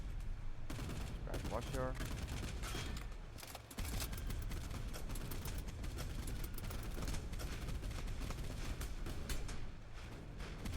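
Machine guns fire from a boat crew in a naval combat game, dense continuous rapid gunfire with heavy booms. A voice gives short commands over the shooting.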